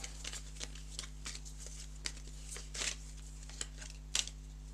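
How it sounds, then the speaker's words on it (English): Playing cards are shuffled during a board game play test, with quick riffling flurries and soft taps across a quiet table, faint and close, with no talking. "So we shuffle them, similar to logging"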